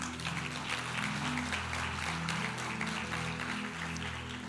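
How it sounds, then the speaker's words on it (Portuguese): A church congregation applauds warmly in a steady patter of clapping over a low, sustained musical hum, moderately loud and continuous for a few seconds. "Você pode dar um aplauso a Ele?"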